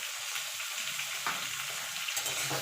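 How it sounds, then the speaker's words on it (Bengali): Flat beans and potatoes fry together in a pan with a little salt and turmeric, giving a steady, close crackling sizzle with a few brief stirring scrapes and no talk. "এবার সিম আলুটা একসঙ্গে ভেজে নেব"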